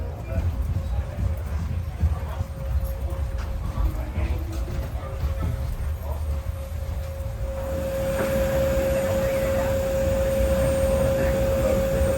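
Steady low jet engine roar fills the cabin of an Embraer ERJ-175LR regional jet, with a constant whine joining in and growing a little louder partway through, under faint cabin background.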